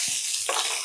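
Mustard seeds, cumin, onions and chillies frying in a pan for millet rava upma, a steady close hiss of sizzling oil with a brief stir or clink partway through.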